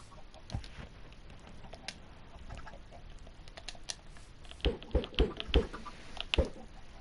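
Chickens in a PS4 Minecraft survival game give a few short clucks near the end, mixed with sharp clicking taps over a quiet background.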